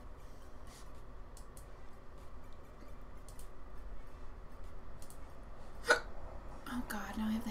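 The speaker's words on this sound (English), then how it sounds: "now I have the hiccups" A person gives one sharp, sudden hiccup amid quiet room noise, while someone talks softly before and after it.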